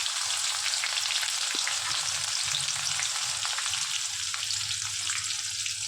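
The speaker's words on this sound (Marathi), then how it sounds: "मी मिरची वगैरे टाकते याच्यात." Chillies frying in hot oil for tomato chutney with garlic, making a continuous close sizzle with faint crackles that stays even throughout, no voices.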